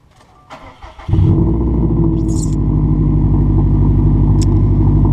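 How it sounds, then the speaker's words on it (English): A Volkswagen Golf R Mk6 with an aftermarket exhaust cold starts: the engine cranks briefly, then catches and settles into a loud, deep, rumbling idle that holds steady, close by. "we figured what better way to finish it off with a cold start with Kyle's new exhaust"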